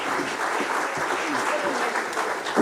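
Audience at a traditional Irish music Comhaltas concert in Milltown, Rathconrath claps steadily, a dense, even wash of hand-claps that runs unbroken and fairly loud from start to end, with faint voices underneath.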